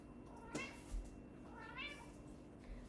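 Two drawn-out cat meows rise and fall over a quiet indoor room hum, the second slightly longer, with a faint third call near the end.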